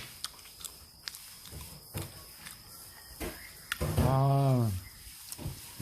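People chew aged gizzard shad sashimi up close, with soft wet bites and crunches spaced through the clip and a brief murmured voice near the end.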